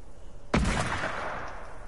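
A single sharp gunshot from a Fortnite battle, loud and close, with a burst at the start that trails off into a short echoing decay, heard alone with no voices.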